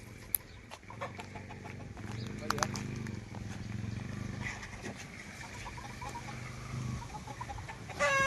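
Free-range village chickens and roosters cluck and call on a poultry farm, several birds fairly close with scattered squawks, while someone talks over them.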